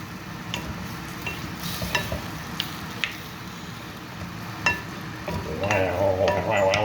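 Blobs of spinach stirred into a pan with a spoon: soft, irregular scraping and wet churning over a low sizzle, growing louder and busier toward the end.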